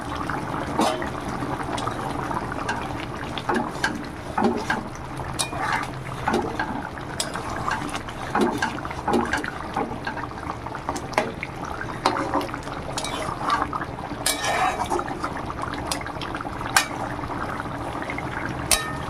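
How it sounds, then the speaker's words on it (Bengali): A pot of chang fish and potato curry bubbles on the stove, with a steady simmering hiss, liquid sounds and frequent light clinks of a utensil against the pot. "দেখুন খুব সুন্দরভাবে ফুটছে"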